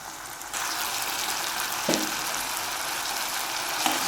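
Parval (pointed gourd) vegetable curry, vegan with no onion or garlic, sizzles steadily in a pan over a full gas flame as its water boils off, a close continuous frying hiss broken by a couple of brief stirring scrapes.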